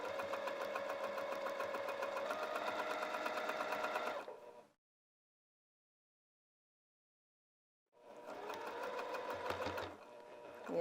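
A sewing machine stitches piping into a lounge pant pocket in a fast, even whir. It stops completely for a few seconds while the fabric is pivoted, then starts stitching again at the same close, steady pace.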